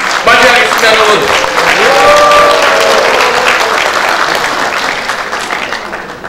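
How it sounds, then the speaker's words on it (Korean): Loud, dense applause and cheering from an audience at a regional council members' rally demanding decentralization, greeting a committee chairman as he takes the stage; a voice rises briefly over the start before the clapping tapers slightly. "여러분 큰 박수와 함성으로 맞이하겠습니다"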